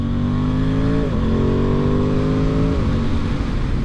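A 2022 Aprilia Tuono 660 motorcycle engine drones loudly and steadily under riding. Its pitch drops briefly twice, as if between gear changes, then it climbs again.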